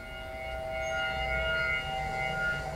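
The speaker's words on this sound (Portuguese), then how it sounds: "No Japão ainda era madrugada quando as sirenes tocaram." Civil defense sirens wail steadily across a town in Japan during the night of an earthquake warning, distant and sustained with layered drifting tones over a low rumbling background.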